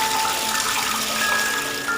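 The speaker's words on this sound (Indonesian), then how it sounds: "Sarah dan teman-temannya mendengar suara keran air dari arah toilet yang berada di gedung itu." Water running steadily from a tap in a toilet, a continuous hissing gush with a faint tonal ring, moderately loud and alone.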